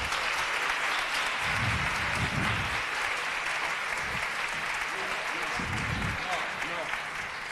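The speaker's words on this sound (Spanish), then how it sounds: "Un fuerte aplauso para ellos." An audience applauds at a book event in the lobby of a Valladolid venue, steady moderate clapping with low voices speaking faintly underneath.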